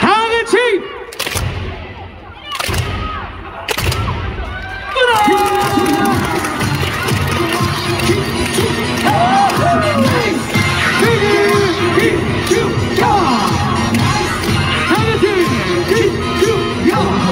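A crowd at a volleyball match fills the arena with loud, continuous cheering and rhythmic chanting, preceded by a few sharp bangs and scattered shouts.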